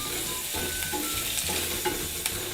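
Onions with turmeric, chili powder and curry leaves sauté in a hot pan, a continuous close sizzle broken by repeated spatula scrapes and stirs.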